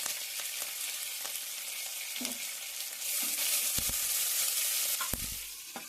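Curry leaves and vegetables frying in hot oil in a pan give a steady, close sizzle throughout, with a few stirring clicks and a louder burst of frying in the second half.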